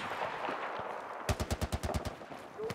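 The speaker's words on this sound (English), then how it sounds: "oh my god, I shot him" A burst of rapid gunfire from the Battlefield 4 video game: about nine sharp shots in quick succession, loud against a steady background of game noise.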